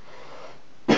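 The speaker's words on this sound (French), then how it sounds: "Je suis vraiment désolé si vous m'entendez tousser" A single short, raspy cough from a man with a sore throat bursts out loud and close at the very end, after a moment of quiet room tone.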